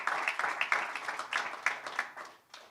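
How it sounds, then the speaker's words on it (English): Audience applauding at a pickleball championship press conference, a dense patter of many hands clapping at moderate distance, fairly quiet and tapering off at the end. "So big round of applause for them."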